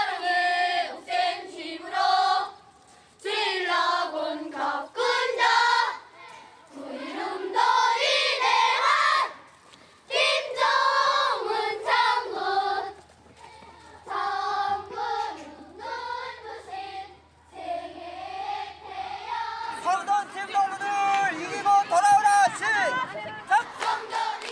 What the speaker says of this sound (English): Each side is cheering on its team.